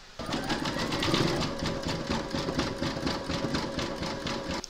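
An embroidery sewing machine stitches a round of a large appliqué parrot's foot, a steady rapid mechanical chatter with regular needle pulses, close and continuous with no talk.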